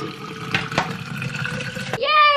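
Water pours into a bottle for a short stretch, with a rising gurgle toward the end as it fills, while a child and an adult talk close by.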